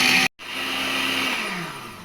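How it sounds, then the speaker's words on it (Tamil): A blender grinding roasted ragi (finger millet) into flour: a loud, steady motor whine that cuts out briefly, then restarts and runs continuously with a slowly shifting pitch. "இப்போ நம்ம பிளெண்டர் பண்ண போகிறோம்."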